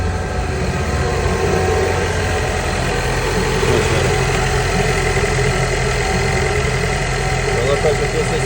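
A steady R56 Mini engine idles throughout with a low continuous rumble and faint rhythmic knocking, close by and unchanging.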